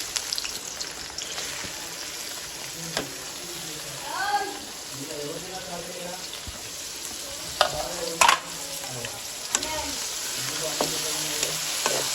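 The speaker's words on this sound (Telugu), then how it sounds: "దొండకాయలు అయితే కడిగి ఇలా సన్నగా కట్ చేసుకున్నానండి ఆయిల్ అయితే వేడైపోయిందండి తాలింపులు ఏం అవసరం లేదు మామూలుగా కర్రీలాగా చేసుకోవచ్చు ఇట్లా వేసేస్తున్నాను" Thinly sliced ivy gourd hits hot oil in a pan and sizzles steadily while being stirred, with occasional spatula scrapes and someone talking intermittently over the frying.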